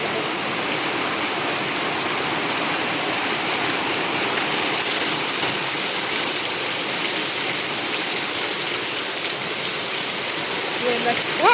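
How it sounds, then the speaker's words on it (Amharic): Heavy rain pours in a steady, dense roar, loud and continuous throughout, with a faint voice briefly audible beneath the downpour. "የዝናቡ ድምፅ ነው የሚሰማችሁ"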